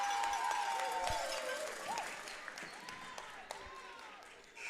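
A crowd at a girls' provincial basketball game cheers and applauds in a sustained roar that slowly fades. A commentator's voice runs over it.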